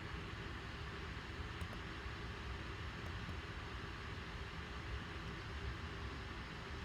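A triplane's engine in Kerbal Space Program hums as a constant, even roar with a dense noisy texture, holding steady and moderately quiet throughout with no speech.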